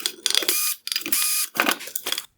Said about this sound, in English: Next, I will remove the 2 Phillips head screws holding on the high beam reflector.